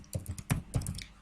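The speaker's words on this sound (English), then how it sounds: "Let's type." Fingers tap on a computer keyboard, producing a quick, irregular run of crisp, close key clicks with no talking over them.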